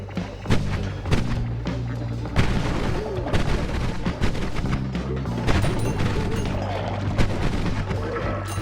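Explosions go off in the video game Noita as a continuous barrage of booms, crashes and crackling blasts, loud and dense throughout with repeated sharp impacts.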